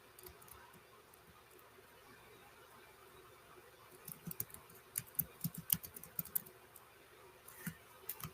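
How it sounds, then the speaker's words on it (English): Quiet typing on a computer keyboard, with a soft, irregular run of light key clicks and taps that gets busier midway, then trails off into a few scattered presses in a hushed room. "we're just going to type whatever we want to put in there"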